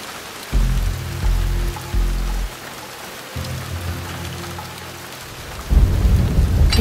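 Rain pours steadily in the video game Shadow Tactics, with deep rumbling thunder rolling in several heavy bursts over the constant downpour.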